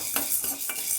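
Chana dal roasting on low heat in a pan, stirred with a utensil in a few quick scraping strokes over a soft, close sizzle.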